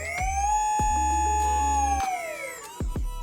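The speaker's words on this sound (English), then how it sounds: "I'm going to go full throttle with the ESC motor." A brushless RC motor driven by a HobbyWing ESC at full throttle, whining loud and close with a steady high pitch that bends up and down, punctuated by a few sharp bursts.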